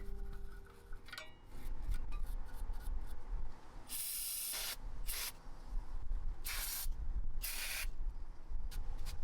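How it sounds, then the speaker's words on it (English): Brake cleaner spray hisses in loud bursts on the front caliper bracket of a Jaguar XJ6 during a brake pad replacement, mixed with scrubbing and rubbing, with no talk. "Clean the caliper bracket."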